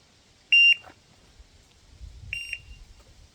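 Two short, loud electronic shot-timer beeps for a pistol drill sound about two seconds apart, each one a steady high tone. A faint low rustle fills the gaps between them.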